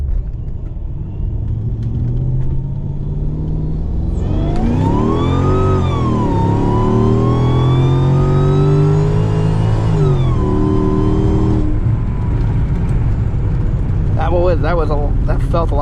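A Mercedes E55 AMG fitted with an intercooler ice tank accelerates hard through a short pull in Mexico, the engine note climbing loud and close for several seconds over a steady rumble before easing off; a voice talks briefly near the end.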